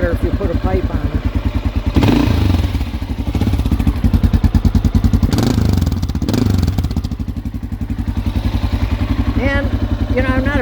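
A BMW F650 motorcycle with an aftermarket exhaust pipe running close by, a steady loud thumping single-cylinder idle with two brief rev bursts, while someone talks over it.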